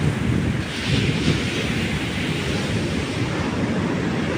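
Steady roar of sea waves breaking on the seashore, loud and continuous, heavily mixed with wind buffeting the microphone, with no voices.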